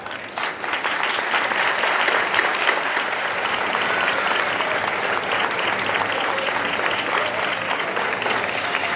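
A crowd gives a strong, sustained round of applause welcoming the speaker of a town fair proclamation, dense steady clapping that rises quickly and holds loud and even for the whole stretch.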